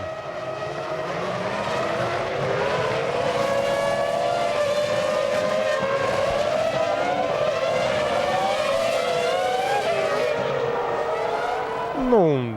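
Formula 1 cars at the 2005 Chinese Grand Prix race past in a continuous, loud engine whine whose pitch rises and falls as the cars pass, with commentary voices faint beneath it.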